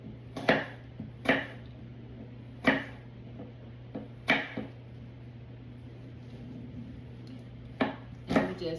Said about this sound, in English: And we just chop it up in chunks.